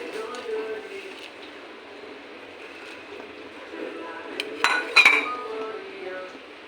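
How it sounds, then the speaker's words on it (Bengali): Metal pans clink softly, then a brief rush of water and clatter as boiled instant noodles are tipped into a metal strainer nearby. "এখন আমি এই চালনির মধ্যে ঢেলে নেব"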